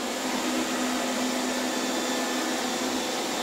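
A Silvercrest robot vacuum cleaner with mop function, model SSWR A1, with its fan raised to the higher of two speeds. It gives a loud, steady, close whine and rush of air that never changes, and nobody speaks.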